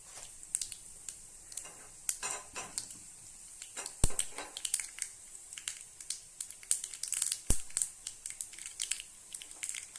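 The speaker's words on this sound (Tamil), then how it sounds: "எண்ணெயும் காஞ்சிருச்சு கடுகு உளுந்து இதில் சேர்த்துடலாம் நல்லா பொரியட்டும்" Mustard seeds and urad dal crackle and splutter in hot oil for a Tamil mint chutney tempering, with sharp irregular pops bursting over a soft sizzle, close and fairly loud, with no voices.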